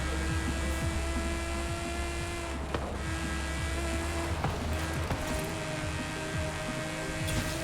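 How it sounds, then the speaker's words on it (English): Straight-six car engine in a racing video game drones loudly and continuously, its pitch shifting with revs and gear changes. "the straight six noise is one of my favorites? Just the absolute biblical noise of a straight six"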